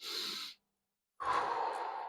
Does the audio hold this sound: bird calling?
no